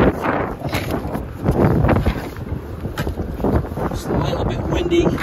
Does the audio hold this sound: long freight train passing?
no